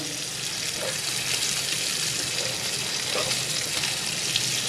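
Meat sizzles steadily in a hot frying pan, a loud, close, continuous hiss with a few faint scrapes and no talking.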